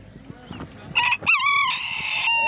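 At a poultry market, a Swedish-breed rooster crows loudly and close with one long, drawn-out call after a brief squawk, over a background of quiet murmuring and clucking.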